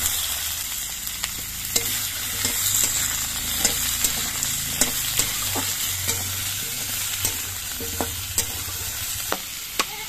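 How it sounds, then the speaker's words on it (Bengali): Potatoes frying in oil in a wok, a steady loud sizzle punctuated by frequent sharp scrapes and taps of stirring, close up with no talk. "এবার আমি আলুগুলো ভেজে নিচ্ছি।"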